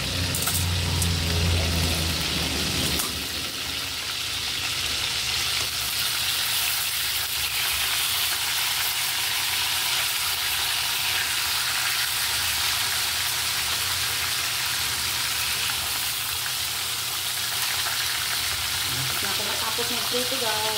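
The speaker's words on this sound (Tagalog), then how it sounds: "Tapos mag-prito" Fish frying in a little oil in a pan, a loud continuous sizzle and crackle that holds steady throughout, close to the listener and alone without talk.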